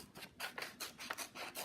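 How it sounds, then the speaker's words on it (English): Scissors snip through white paper to cut out a flower shape for a spring window craft, a run of crisp, quick rasping cuts close by with no talk. "I'm going to take my scissors and I am going to carefully cut this"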